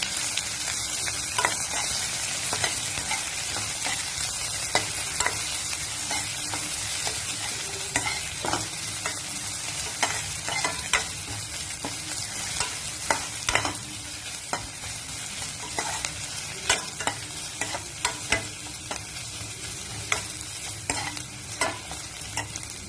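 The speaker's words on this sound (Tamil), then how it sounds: "ஒரு கொத்து கருவேப்பிலை சேர்த்து நல்லா வதக்கி விட்டுக்கலாம்." Onion, garlic, green chili and curry leaves sauté in a pan for a village-style tomato rice, with a steady loud sizzle broken by frequent sharp scrapes and taps of a stirring spoon throughout, and no talking.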